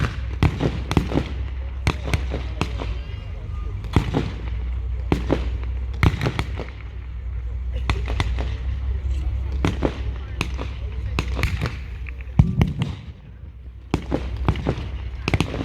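Mortar rounds fired at an outdoor late-war WW2 battle reenactment, sharp booming reports and pops repeating irregularly every second or so at a distance, with someone narrating throughout.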